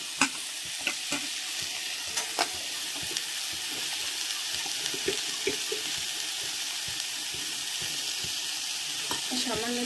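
Marinated chicken for an oil-free pepper chicken goes into a hot pan (karahi), giving a continuous bright hiss with light, spaced knocks of stirring, close and fairly steady.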